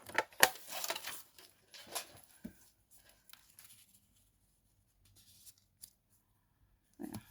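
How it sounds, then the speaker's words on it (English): Scissors cut a thin strip off a card background for papercraft, making brief close snips and paper rustles, then mostly quiet with a few light handling noises. "I'm going to cut a little slither off this. So I'll cut it to 3 3/4."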